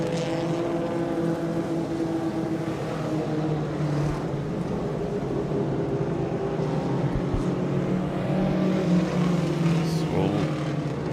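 Modified race cars circle a dirt oval under caution, their engines a steady, droning roar of several cars running at reduced pace, with some faint background voices mixed in.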